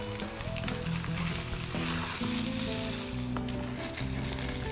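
Ground meat browning in a pan for a ragù, a loud and steady close-up sizzle with crackling spatter that continues evenly throughout.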